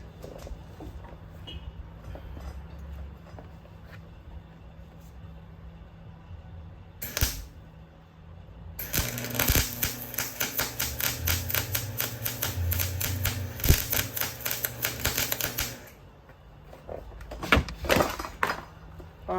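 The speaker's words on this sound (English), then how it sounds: "All right, so I got that pretty good welded" A go-kart fender mount bracket is being welded, with a brief crackling burst followed by a longer, loud, sputtering buzz lasting several seconds, then short bursts after quiet pauses.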